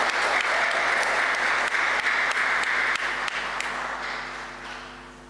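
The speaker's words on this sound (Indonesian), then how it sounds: "Beri tepuk tangan kepada remaja dan apostol bulung gereja kita." A church congregation at a Christmas youth service applauds steadily, dense clapping holding for several seconds before slowly thinning and fading toward the end.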